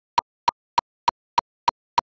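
Seven crisp metronome clicks at 200 beats per minute with the quarter note getting the beat, a steady fast pulse about 0.3 seconds apart with silence between ticks.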